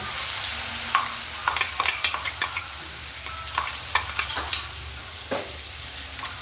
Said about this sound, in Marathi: मिरचीचा फूट टाकून घेतलंय मी आणि फ्राय करून घ्यायचं आपल्याला